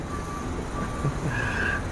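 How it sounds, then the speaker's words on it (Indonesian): A reversing truck's backup alarm sounds in a steady electronic beeping that carries from nearby over a constant low rumble of traffic and room noise. "Wah, udah ada alarm nih."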